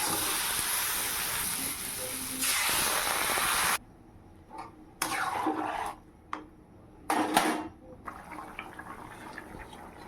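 Water poured into a pan of frying potato and cauliflower curry, a loud sizzling hiss that cuts off abruptly, followed by scattered bursts of spluttering and quieter bubbling.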